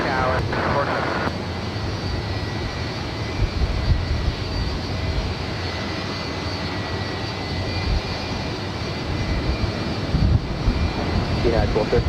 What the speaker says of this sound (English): the 787-10 Dreamliner heading back to Amsterdam, rolling down 24 left